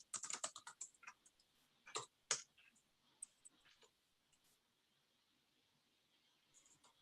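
Fast, irregular clicks of typing on a computer keyboard during an online call, bursts of keystrokes at the start then sparser taps, close and fairly quiet.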